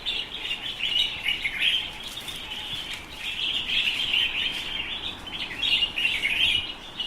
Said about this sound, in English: the sounds of these birds in the morning.